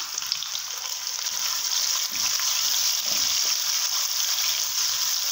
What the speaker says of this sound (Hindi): अब इसमें मैं डालूँगा ये कचूमर किया हुआ प्याज।